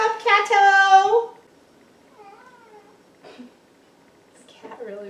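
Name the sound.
cat meowing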